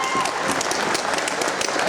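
Audience applause at a Genesis Fighting Championship bout, honoring a former champion, fills the arena as a dense, steady wash of clapping with a cheering crowd mixed in, loud and continuous throughout.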